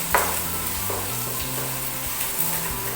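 Sliced onion fries in a pan, sizzling and crackling steadily up close while a utensil stirs it, with a few sharper pops and clicks over the hiss and no voices.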